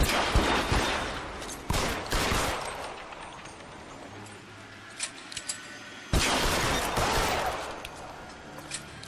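Gunfire in the video game L.A. Noire, loud bursts of rapid shots and machine-gun fire in clusters, with a quieter lull in the middle before another heavy volley, close and dominant.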